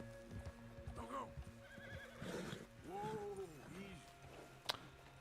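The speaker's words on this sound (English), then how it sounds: "We got bears, and my horse is freaking out." A horse whinnies and snorts in Red Dead Redemption 2 with several rising and falling neighs close by, soft hoof clops under them, and a sharp click near the end.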